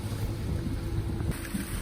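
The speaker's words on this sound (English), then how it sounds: "amidst the rumbling of the engines shaking the hull" Engines of a big-net fishing ship rumble loud and close on the deck, shaking the hull in a continuous low drone mixed with wind and sea noise, with no voices.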